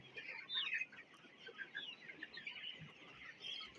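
A sick rooster that cannot walk or eat on its own makes soft, uneven clucks and low throaty calls that repeat close by with no talk over them.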